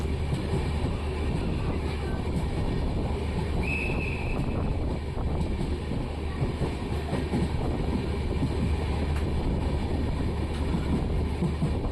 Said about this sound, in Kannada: ಹುಬ್ಳಿ ವಿಜಯಪುರ ಪ್ಯಾಸೆಂಜರ್ ಟ್ರೈನ್ನ ಕ್ರಾಸಿಂಗ್ ಆಗ್ತಿದೆ ನಮ್ಮ ಟ್ರೈನು